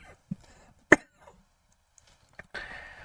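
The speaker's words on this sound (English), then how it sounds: "Oh my God, my cough." A single sharp cough near the microphone, with a few faint clicks and scrapes around it and a louder, steadier noise starting near the end.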